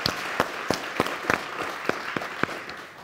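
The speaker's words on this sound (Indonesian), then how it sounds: "Oke, kasih tepuk tangan dong buat semua." Audience on the TV talk show Mata Najwa applauding, a dense wash of clapping with sharp individual claps standing out, tapering off near the end.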